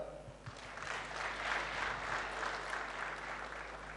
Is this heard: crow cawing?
no